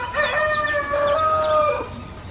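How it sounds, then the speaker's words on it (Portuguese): Roosters crow in the morning in a rural backyard in Pará, one clear nearby crow with fainter overlapping calls from other birds behind it and no talking. "É muito bom poder acordar ouvindo os galos cantando."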